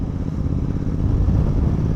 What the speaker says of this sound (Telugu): దీని సౌండ్ చూస్తుంటే చూసారు కదా రెవ్ చేస్తుంటే ఎలా ఉంటుందో